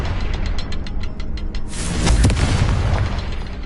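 Confringo blasting spell in Hogwarts Legacy, a sharp explosive burst with a deep booming rumble and crackling tail, loud and close, following a brief rhythmic patter.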